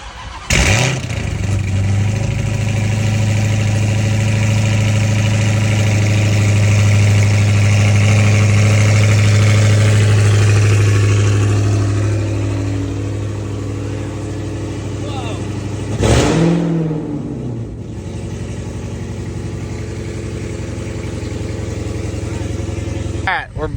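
A 900hp bagged Dodge Hellcat engine starts with a loud bark, settles into a heavy rumbling idle, then revs sharply once, heard close and loud throughout.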